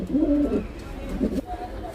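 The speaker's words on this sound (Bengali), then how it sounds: "কত সুন্দর পায়রাটা দেখো" A young pet pigeon with an injured leg gives a couple of low, throaty coos close by at home, with a quieter murmur of background noise between them.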